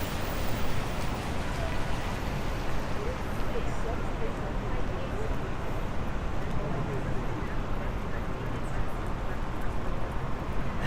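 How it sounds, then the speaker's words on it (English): Steady rain falls on a New York City street during a walk, a dense, even hiss of drops close by that continues unbroken throughout. "Got some more raindrops on the lens here."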